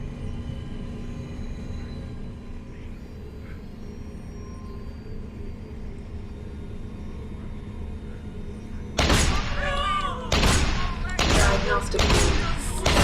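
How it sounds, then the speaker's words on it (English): Automated turrets in Deus Ex: Human Revolution open fire in loud, sharp bursts of rapid gunfire after a long stretch of quiet, low in-game ambience, several volleys packed close together. "Looks like if I'm over here, the turrets can't hit me."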